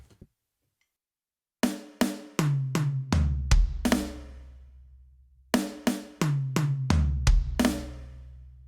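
A drum kit plays a run of 16th notes ending in a kick flam, crisp close strikes rolling down from snare through toms to a booming bass drum, played twice alone.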